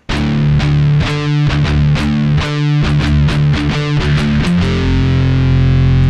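Heavily distorted electric guitar plays the main riff of a song, loud and close, with chugging palm-muted notes in an off-kilter rhythm before ending on a sustained ringing chord.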